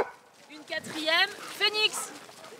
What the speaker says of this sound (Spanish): son tan solo los 80 perros de Elsa Juglà